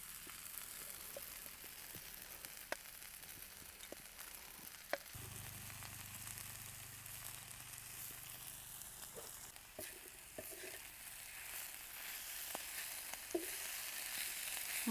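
Brinjal thecha sautés in a pan with a faint, steady sizzle and scattered soft crackles and spoon taps, quiet and close with no talking.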